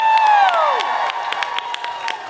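A crowd in the first women's professional soccer stadium, CPKC, cheers, whoops and claps loudly, with a long whistle-like cry sliding down at the start and scattered clapping throughout.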